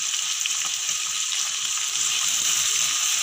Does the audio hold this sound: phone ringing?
no